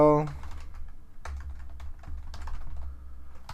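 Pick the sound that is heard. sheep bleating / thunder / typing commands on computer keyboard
typing commands on computer keyboard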